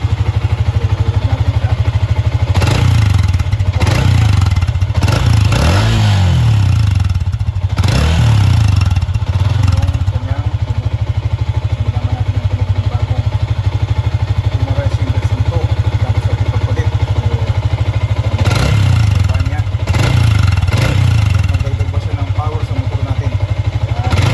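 A Sniper 150 motorcycle engine idles on its stock exhaust pipe, a loud steady low rumble throughout, with a few brief blips and clattering scrapes near the start and again toward the end; no one speaks.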